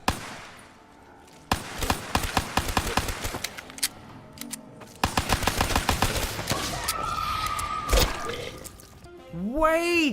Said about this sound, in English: now you're going to be hearing the DLC 5 Zombie Chronicle sound effects that you hear when you knife a zombie and you shoot a zombie